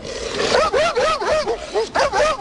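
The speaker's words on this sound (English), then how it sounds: "It's a fat lab barking." A heavyset Labrador barking, a run of short, loud, close barks and yips in quick succession over a couple of seconds, with some whimper-like tones between them.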